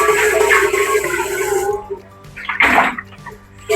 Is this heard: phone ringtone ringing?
no